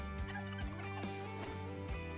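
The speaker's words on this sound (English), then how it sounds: "We got these gobblers coming right in and we're gonna call them in." Wild turkey gobblers in the hunting game Call of the Wild, with several loud, rattling gobbles bursting out in quick succession at close range, alone without talk.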